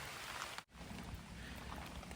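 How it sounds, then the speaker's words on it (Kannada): Light rain falls on a black pepper plantation, a soft, faint, continuous patter and hiss with a momentary dip near the start and no talking. "ನೋಡಿ ಮಳೆ ಬರ್ತಾ ಇದೆ ಸಣ್ಣಕ್ಕೆ ನೋಡ್ಬೋದು"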